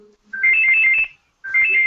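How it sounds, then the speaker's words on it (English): A mobile phone ringtone plays loud and close, a bright repeating electronic melody that runs for under a second, pauses briefly, then starts again. "Emily, turn off your phone"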